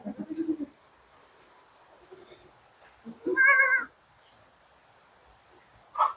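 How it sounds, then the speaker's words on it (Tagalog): Goats bleating on a farm after rain, with a short cluster of calls at the start, a louder, longer bleat in the middle and a brief call at the end, separated by quiet stretches. "Doon ang karamihan ng kambing natin guys."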